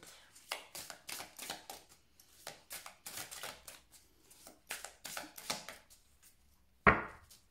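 A tarot deck being cut and handled during a Cancer reading, a series of close, soft papery slaps and riffles in irregular bursts, ending in one sharper, louder snap.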